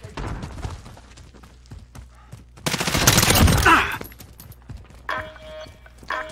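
Gunfire in the shooter game Modern Warfare: scattered shots, then a loud dense burst of rapid fire midway, followed by quieter sporadic shots and a faint electronic tone.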